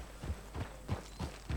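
Horse hooves clip-clop at an even walking rhythm in the Red Dead Online video game, five soft regular hoofbeats on the ground, fairly faint.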